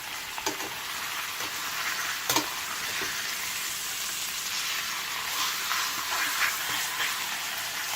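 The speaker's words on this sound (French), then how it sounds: "j'ai juste besoin de les dorer sur les deux côtés" Pieces of lamb neck sear in a hot pan, a steady broadband sizzle running throughout with a few sharp spits and crackles, close and fairly loud, no voices.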